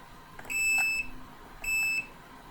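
Two steady electronic beeps from a Fluke AC voltage detector, each lasting about half a second with a short pause between, clear and close with no talking.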